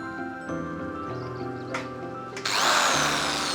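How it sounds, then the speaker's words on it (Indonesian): A power drill bores into the legs of a home-built hydroponic rack, its loud broadband whir kicking in partway through and running steadily to the end, after a stretch of quieter tonal background. "Nah, sekarang kita bor dulu"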